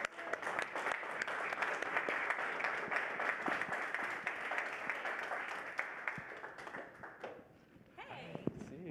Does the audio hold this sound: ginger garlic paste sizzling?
no